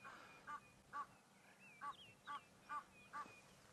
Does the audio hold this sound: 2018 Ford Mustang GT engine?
no